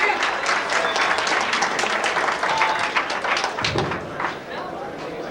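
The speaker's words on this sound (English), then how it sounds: "so let's have another round of applause for Steve Johnson." A large audience at a 1991 tribute event in Los Angeles breaks into sustained applause, dense overlapping clapping that holds steady and then thins slightly toward the end, with a dull thump near the close.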